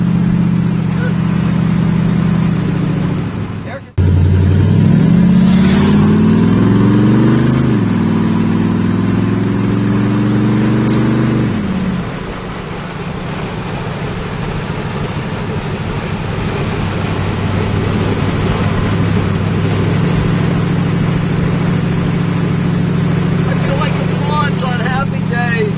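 A 1947 Ford Custom car runs and drives, its engine rumbling and rising in pitch through the opening seconds, then settling into a steady low drone while a person talks over it.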